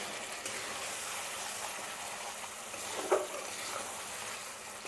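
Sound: chicken being sautéed in a pan

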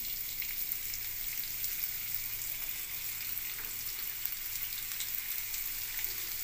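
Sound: frying chopped onion and red chilies in oil

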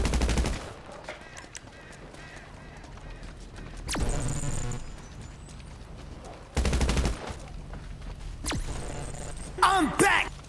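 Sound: gunfire in video game GTA V

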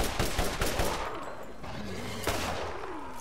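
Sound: gunshot in the video game Borderlands

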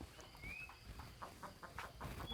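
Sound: birds and chickens in the morning

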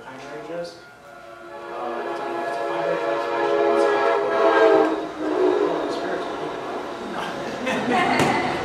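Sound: train passing by with horn

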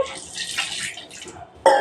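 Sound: water poured to rinse dosa batter ingredients

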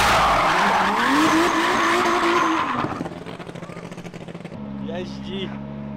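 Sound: Subaru drift car skidding, tires squealing

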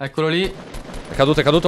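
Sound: gunfire in the video game Fortnite

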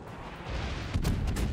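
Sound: warship guns firing from smoke, from video game World of Warships

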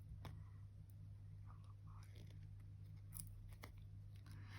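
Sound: scissors cutting out a paper car piece

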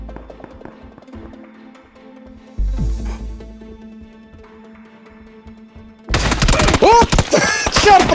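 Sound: gunfire in the PUBG video game

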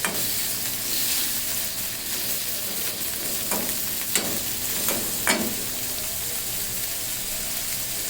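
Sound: shrimp being stir-fried in a pan

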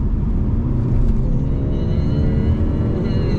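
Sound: Mercedes-Benz CLE accelerating for overtaking, 80 to 120 km/h

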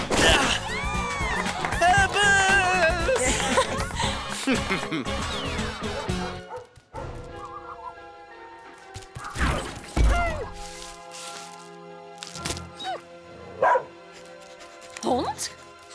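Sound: dog barking

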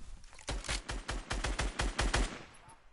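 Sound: gunfire in the video game Fortnite

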